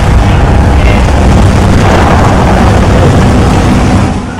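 Explosions tearing through a lakeside town in Quebec, a loud, sustained roaring rumble and boom that fills the whole stretch without pause.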